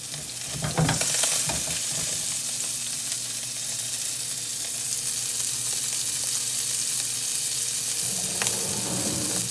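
Bacon-wrapped shrimp searing in a hot pan, a loud, constant close-up sizzle with a burst of crackle and clatter near the start and again near the end as the pan is moved.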